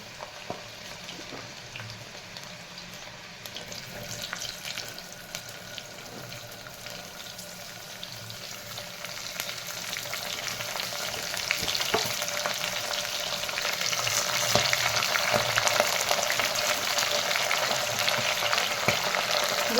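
Cluster beans (guvar) fry with garlic in a hot pan, producing a steady, close crackling sizzle that grows gradually louder and denser over the twenty seconds, with no talk.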